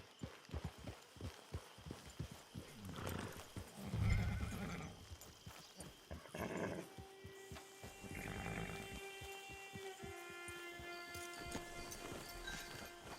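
Hooves clip-clop in a steady rhythm, then a horse whinnies and snorts amid game ambience and a faint sustained musical drone in Red Dead Redemption 2.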